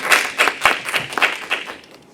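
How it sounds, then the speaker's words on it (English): A small audience at a public sales talk gives a short round of applause, a sparse, close rhythm of individual claps that thins out after about two seconds. "Give her a round of applause, please."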